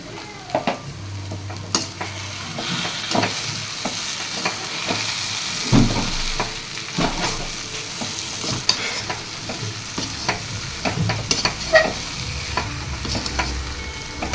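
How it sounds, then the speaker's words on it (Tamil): Elephant foot yam pieces frying in oil in a pan, stirred with repeated scraping strokes over a steady sizzle, close and fairly loud, with no talking. "எண்ணெய் விட்டு அடியோடு நல்லா கலந்து சேர்த்து கலந்து விடுங்க"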